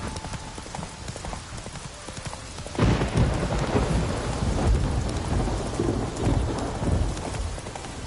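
Rain hisses steadily in The Witcher 3: Wild Hunt while a deep rumble of thunder swells in, mixed with rhythmic hoof-like clopping underneath.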